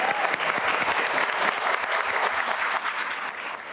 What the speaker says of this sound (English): So let's give them one more big round of applause.